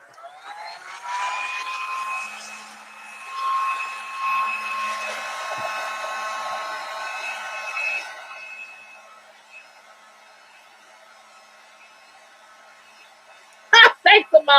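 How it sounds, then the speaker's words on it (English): A heat gun blows on patina paper for a collage to dry it. It gives a steady, close whine for about eight seconds and then cuts off, and a few sharp knocks follow at the end. "Another little shot of the heat gun, I think will be good to go."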